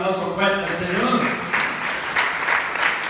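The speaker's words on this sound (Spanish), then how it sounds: "Hay que dar un aplauso fuerte al Señor." A church congregation claps loudly and steadily throughout, with a preacher's voice carrying over the applause.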